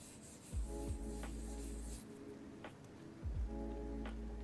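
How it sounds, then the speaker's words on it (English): Repeated rubbing and rasping strokes of sanding a thin plastic Gunpla model part, in short back-and-forth bursts, close and moderately loud with a low hum underneath. "And sanding creates heat and friction."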